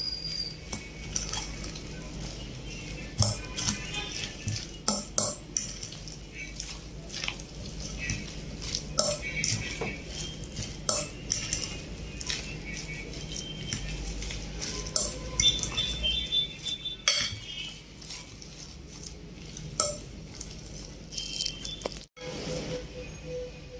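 Mashed potato and vegetable nugget ingredients being mixed together in a bowl, with soft squishy churning and occasional utensil clinks running steadily throughout, close by.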